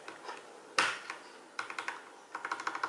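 Quiet typing on a Logitech POP Keys keyboard with brown switches, giving short bursts of soft, close keystrokes separated by brief pauses, with one sharper tap early on.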